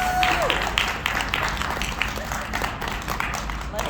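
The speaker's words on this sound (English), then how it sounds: "Everybody give this group a round of applause for having goals" Applause from a group being honoured for having goals, a steady spread of clapping that carries on for several seconds at moderate volume, with a brief tone at the start and some crowd noise underneath.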